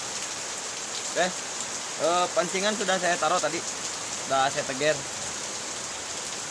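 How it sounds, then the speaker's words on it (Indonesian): Heavy rain falls steadily throughout at an eel-fishing spot, a constant wash of drops under a voice talking in short bursts. "Hujan semakin lebat"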